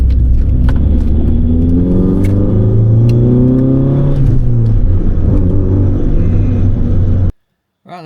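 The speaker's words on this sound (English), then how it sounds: "she's bogging hard at like 5 or 6 grand" A Proton Satria GTi engine strains and bogs while accelerating, a loud steady drone with rising harmonics rumbling close from inside the car, then cutting off abruptly near the end.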